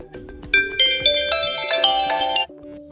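A bright smartphone system ringtone on a Realme GT Neo 3T plays a quick run of chiming tones, loud and clear, for a few seconds before cutting off.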